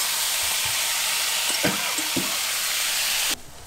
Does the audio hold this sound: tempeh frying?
yes